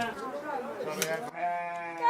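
Sheep bleat in a Himalayan highland setting, with a short clear bleat near the start, then a sustained higher bleat that carries on over steady background voices.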